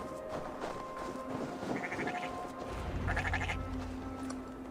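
Sheep bleating inside the video game Assassin's Creed Valhalla, several wavering bleats over a steady ambient bed of game wind and background sound.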